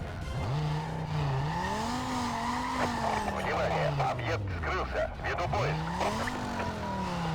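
Cars in the video game Need for Speed Most Wanted screech through skids, with rising and falling tire squeals and engine whine over a steady rumble, and a player talks faintly underneath.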